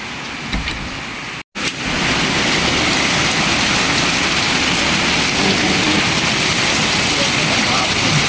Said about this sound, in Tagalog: Ayun, may lakas ng ulan. May bagyo daw kasi.